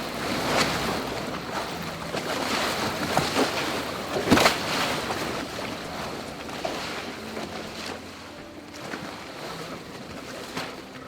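A dhow sailing on open sea in the game Sailwind, with continuous waves washing and wind rushing around the hull, occasional creaks and splashes, steady and moderately loud with no talking.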